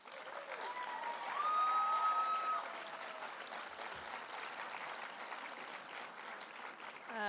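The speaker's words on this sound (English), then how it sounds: "a big round of applause." Sustained applause from a school graduation audience fills the room, swelling briefly and then continuing at a steady level throughout.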